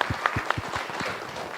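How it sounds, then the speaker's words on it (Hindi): An audience at a talk session gives a brief burst of scattered clapping, a handful of separate claps that fade quickly into room noise. "जोरदार ताली"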